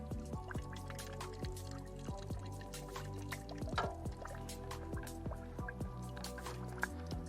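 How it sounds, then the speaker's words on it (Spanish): Water from a mountain fountain drips and trickles for a dog, a quick, irregular patter of drops falling into a shallow pool of water, close and moderately faint, without voices. "Kira, voy a echar agua"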